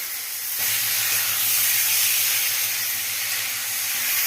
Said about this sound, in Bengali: ভেজে রাখা সবজি মাছের মাথা সব একসাথে দিয়ে দেবো দিয়ে আর একটু ভালো করে মশলার সাথে এইভাবে একটু কষিয়ে নেব